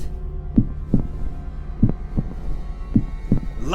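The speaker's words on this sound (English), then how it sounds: "Here is the beating of his hideous heart." A beating heart sound effect thumps in paired double beats, a low steady lub-dub repeating about three times over a faint hum, with a rising swell at the very end.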